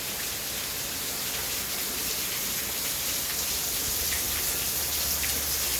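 Heavy rain falls in Goleta, California as a steady, dense, even hiss of pouring water, loud and constant throughout with no voices.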